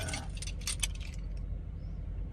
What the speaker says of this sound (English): I've just been and picked the keys up